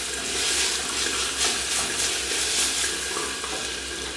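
Garlic frying in lard in a pan, a loud, steady, close sizzle and crackle running unbroken throughout, with no talk.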